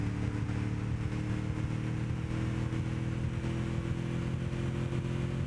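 Car engine in the racing game Gran Turismo 6 during a Goodwood Festival special event, a steady droning hum with a faint rising note, constant and moderately loud with no talk over it.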